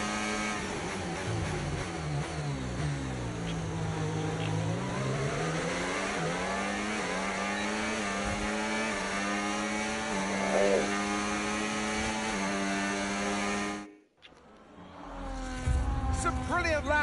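A race car engine wails through gear changes while overtaking at the Red Bull Ring in a racing game, a loud, close, sustained drone rising and falling in pitch before a brief cut and a fresh burst of revving.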